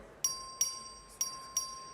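A chamber bell rung by the clerk in a state House chamber to open a record vote: four bright, ringing dings, evenly spaced with a brief pause before the third, each decaying quickly against a quiet room.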